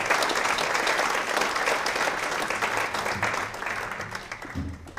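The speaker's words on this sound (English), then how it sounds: "If we could give her a round of applause for her induction." A crowd at a high school Hall of Fame induction gives a round of applause for an inductee, a dense, even clatter of many hands that fades toward the end as a voice starts up.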